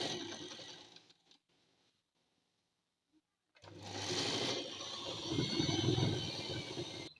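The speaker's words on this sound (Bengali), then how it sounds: "পরের পাটটাও এভাবে সেলাই করে নিচ্ছি" A sewing machine stitches pieces of salwar pants in two runs: a short burst that trails off, then near silence, then a longer, louder whirring run of rapid needle strokes up close.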